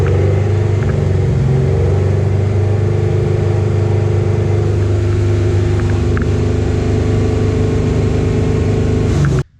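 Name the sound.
car engine revving to 3,000 RPM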